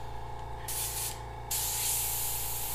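An airbrush hisses steadily as it sprays paint through a skull stencil, with short bursts and then a longer continuous spray over a low background hum.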